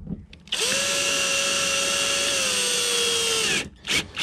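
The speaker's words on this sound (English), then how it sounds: "I don't recommend running that drill wide open." Cordless power drill runs steadily at high speed for about three seconds while driving a screw into a 2021 Toyota 4Runner door panel, loud and close, with short clicks and handling noise before and after.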